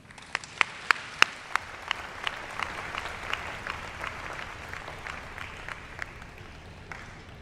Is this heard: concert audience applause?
yes